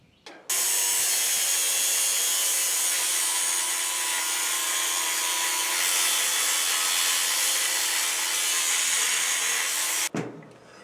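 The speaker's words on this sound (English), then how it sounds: "Now that the angle grinder has done its work, the cage can come off the machine." Angle grinder cutting through the steel cage of a shipping crate around a 1750 lb Anyang power hammer: one loud, harsh, continuous grinding hiss lasting about ten seconds, then stopping abruptly.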